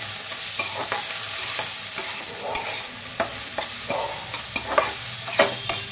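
Maggi noodles with egg and vegetables frying on high flame, a continuous bright sizzle broken by sharp clicks of a utensil scraping and stirring in the pan.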